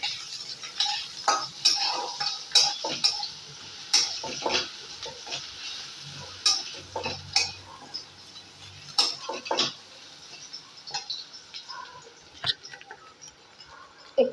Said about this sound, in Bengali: রসুন দিয়ে আবার ভাজবো।